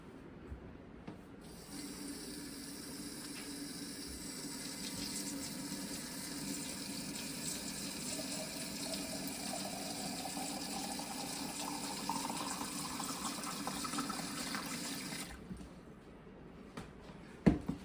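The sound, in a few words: water poured into canning jars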